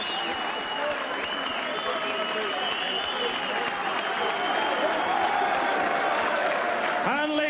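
Sustained applause from a large boxing crowd fills the arena throughout, with a ring announcer's voice carrying over the noise.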